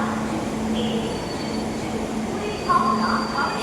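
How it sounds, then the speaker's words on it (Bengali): A train approaches platform 2 at a railway station in Cuttack, Odisha, with a steady loud rumble, drawn-out metallic tones and a brief louder squeal near the end, as station background noise carries on throughout. "আমাদের ট্রেন 2 নম্বর প্ল্যাটফর্মে আসছে।"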